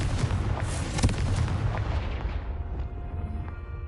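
A Confringo blasting-spell explosion from the Hogwarts Legacy video game, a loud booming burst with deep rumble that rolls and fades over several seconds.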